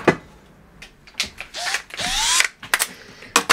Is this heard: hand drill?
yes